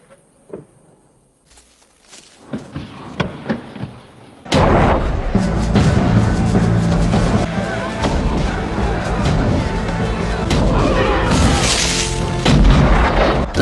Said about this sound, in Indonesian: Tentara Prancis membangun parit dan membombardir benteng William dengan meriam mereka.